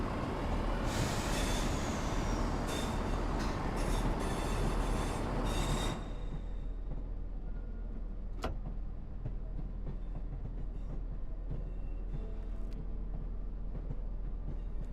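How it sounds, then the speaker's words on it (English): A train passes in Train Sim World 5, a loud rolling rumble with wheel squeal that abruptly drops to a quieter, steady rail hum with a brief sharp screech midway. "I hear another train somewhere."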